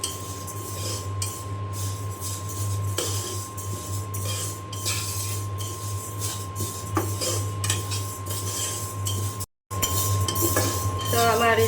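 Moong dal fries over low heat in a pan while a utensil scrapes and clinks against the metal in scattered strokes, over a steady background hum with a brief dropout near the end.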